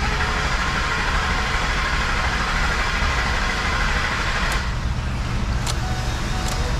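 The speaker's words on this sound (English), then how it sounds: "Starting the engine." A 2005 Ford Expedition with the 5.4-liter three-valve V8, after intake repairs, running steadily up close with a loud, constant engine drone and rumble, a few faint clicks near the end and no voices.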